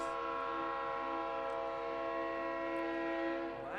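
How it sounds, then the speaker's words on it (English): A train horn sounds steadily from beyond left field at a minor-league baseball game, a sustained multi-tone blast held loud and unbroken throughout, fading slightly at the very end. "Well, that's the train going by out in left field."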